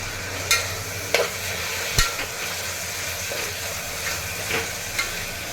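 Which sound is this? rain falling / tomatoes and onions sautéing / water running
tomatoes and onions sautéing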